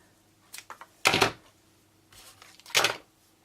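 Scissors snip through a length of Melon Mambo satin ribbon at a craft table, two sharp crisp cuts with smaller handling rustles before them, close and alone.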